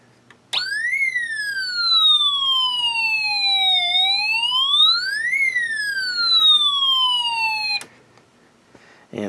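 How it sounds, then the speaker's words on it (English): A loud electronic police siren comes from a Snap Circuits alarm IC driven through a power amplifier into a speaker, sweeping down and up in pitch for several seconds before cutting off abruptly. "we make use of our power amplifier connected to our alarm IC, so that we can increase the power going to our speaker of the police siren that the alarm IC generates"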